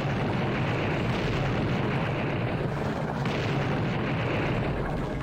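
A continuous, dense rumbling roar like overlapping explosions in the video game Blood fills the clip, loud and unbroken, with no voices.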